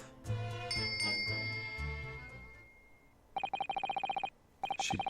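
A bell cord in a video game is pulled, followed by rapid, bright electric bell ringing in two bursts after a chiming musical passage.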